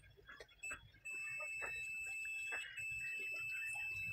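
A multimeter set to continuity gives a steady high electronic beep while testing a 10-inch woofer with a 135 mm magnet. The tone runs continuously for several seconds after a few clicks and handling noises.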